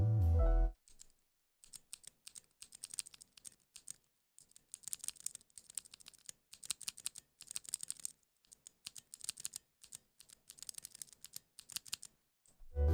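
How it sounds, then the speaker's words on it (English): Quick bursts of typing on a keyboard fitted with new clicky key switches, close and crisp. The keys clatter in irregular rapid runs separated by short pauses, with no talking. "I bought a couple of fancy keycaps, and now I'm looking, and they came with key switches that sound..."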